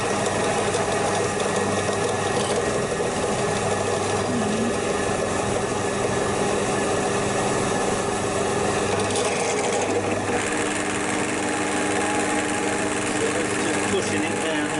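A repaired Dremel 3000 rotary tool runs continuously with a steady, dense whine and buzz throughout, loud and unbroken, with a slight shift in tone near the end.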